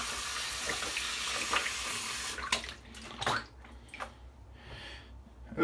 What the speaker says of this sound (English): rinse my hands off here